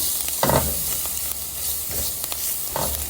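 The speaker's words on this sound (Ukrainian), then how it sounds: "Гарненько перемішуємо." Onions softened in a hot pan are stirred with a tablespoon of paprika, with steady sizzling and a few scraping strokes at an unhurried pace, close by.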